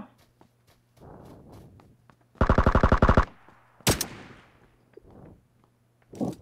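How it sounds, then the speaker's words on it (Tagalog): Rapid automatic gunfire in PUBG Lite, a loud burst of about a dozen close shots lasting under a second, followed by a single sharp shot and scattered softer impacts and footsteps. "binabaril na siya"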